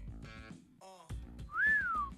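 A single clear melodic whistle from a game cutscene, rising then gliding down in a long held tone near the end, following short tonal phrases and music-like sounds, with no talk over it.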